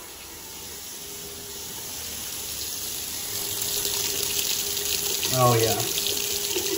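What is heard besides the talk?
water running from faucet down vanity sink drain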